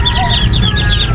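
A Brahma hen clucking close by in a rural yard, soft repeated clucks over a dense chorus of other chickens and birds.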